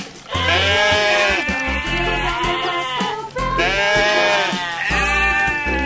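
A toy sheep lets out loud, wavering mechanical bleats in several repeated bursts, close and alone with no voices over it.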